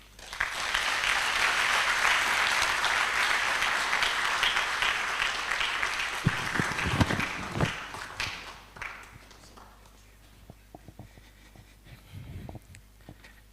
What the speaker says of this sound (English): Another round of applause for Dr.